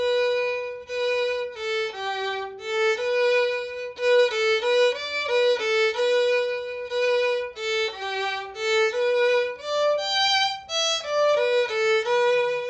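Solo violin plays a full lesson melody line, a steady run of clear bowed notes, some short and some held, close and alone with no talking.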